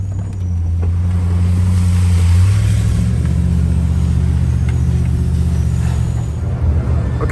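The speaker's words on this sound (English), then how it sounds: "That's a big truck, really heavy, 450, lifted" A heavy lifted 450 truck powers out of a river, its deep engine droning loudly and rising in pitch partway through as water churns and splashes around it, with no talking.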